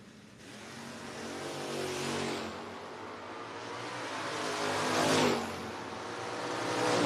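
Drag racing cars, including a Chevy Camaro and a Chevelle, at a no-box shootout, loud engines roaring and revving with swelling passes that rise and fall, heard from a distance without talk.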